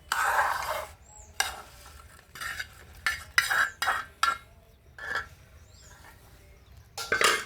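Fried brinjal and other chutney ingredients are pounded in a mortar, with about a dozen irregular, close thuds and grinding scrapes separated by short pauses.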